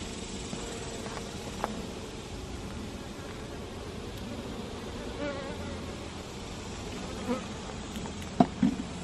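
Honeybees swarm over an opened wild hive, producing a dense, continuous buzzing drone close by, with a few brief knocks near the end and no talk.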